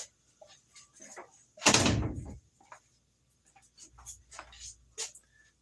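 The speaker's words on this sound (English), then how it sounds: "I gotta close my door here" A door is closed in a quiet room with one firm thud and rattle, surrounded by faint small knocks and shuffling sounds.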